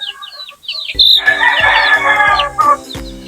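Young chickens, about a month old, on a Philippine backyard farm: close, loud clucking and squawking calls in quick overlapping bursts, with a crow-like cry rising among them and no talk.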